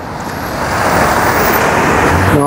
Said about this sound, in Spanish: Aquí está una Boulevard, pues bien ocupada, mucho tráfico aquí, amigos